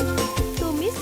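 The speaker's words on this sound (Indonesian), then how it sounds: "masukkan ayamnya. Tumis sampai mulai berubah warna." Oil sizzles steadily in a hot wok as chicken pieces are stir-fried, with a couple of soft scraping strokes and faint clinks through the second.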